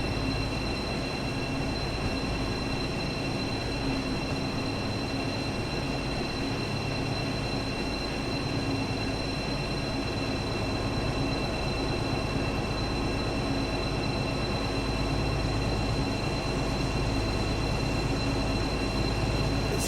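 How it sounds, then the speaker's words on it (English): A train in the Train Sim Classic game, a BR218 locomotive running on the Birmingham Cross City Line, gives a continuous steady rumble with constant motor hum and faint tonal whine throughout. Nothing stops or varies sharply, and there is no talk. "another one of those small window trains"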